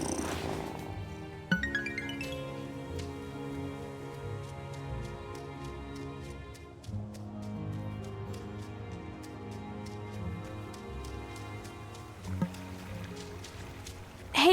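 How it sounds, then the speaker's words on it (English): A cat purrs softly in the life-sim video game Wylde Flower, a gentle low rumble under steady, tuneful game music with a few light chime accents. "what a good purr."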